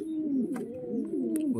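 A close, unbroken, throaty coo from pigeons in a breeding box, wavering in pitch, with a few faint clicks and no talking.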